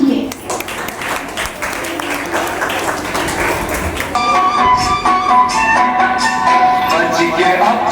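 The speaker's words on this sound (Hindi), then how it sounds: "Please जोरदार तालियों से स्वागत कीजिए।" An audience at a primary school Mother's Day celebration claps to welcome a child's performance, a dense round of applause that blends into music starting partway through.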